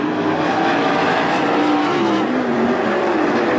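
410 sprint cars roar around the track at Attica Raceway Park during a heat race, with a loud continuous engine howl and rising and falling pitch as the cars pass.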